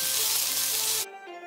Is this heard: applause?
no